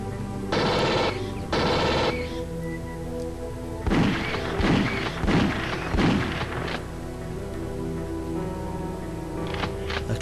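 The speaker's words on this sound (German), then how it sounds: "Oh, noch ein Schuss." Video game gunfire in Alien Trilogy rings out as a few bursts of shots followed by several sharp thuds and booms over a low game background hum.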